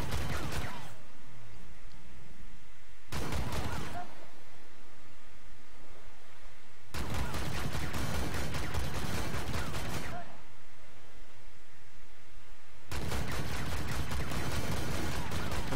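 A Gatling gun fires in the tank game Armored Warfare, with a Challenger 2 in play: three long, dense, roaring bursts of rapid fire are separated by short gaps filled with quieter ambient noise.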